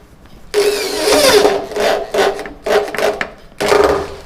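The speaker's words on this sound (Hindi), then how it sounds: "उसमें पेंच को लगा लेना है, जो कब्जे के साथ आते हैं" Hinge screws are driven into a plywood door frame, heard as four loud grinding, rasping bursts of a power driver separated by brief pauses, close up.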